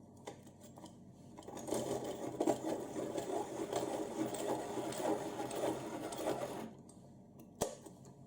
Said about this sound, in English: I should sharpen this as well.